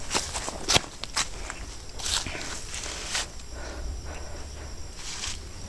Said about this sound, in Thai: ผมได้ยินเสียงเดินใช่ป่ะใช่ป่ะฝั่งลุง